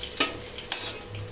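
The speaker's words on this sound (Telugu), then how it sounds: "2 నిమిషాల తర్వాత ముక్కలన్నీ చక్కగా ఫ్రై అయిపోయినాయి" Raw bitter gourd pieces fry in a pan with a soft continuous sizzle. Two short scraping stirs stand out briefly above it.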